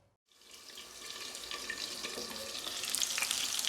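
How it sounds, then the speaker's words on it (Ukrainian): Cutlets frying in a pan give a steady sizzle and crackle that rises after a brief silence and grows louder and brighter, with no voices. "Смажу котлети"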